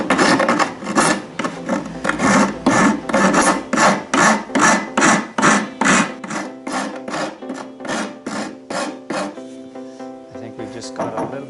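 A hand file is worked along the edges of a wooden dagger board for a small wooden boat. The rasping strokes are loud and close and come in a steady rhythm, about two per second, then fade into lighter scraping.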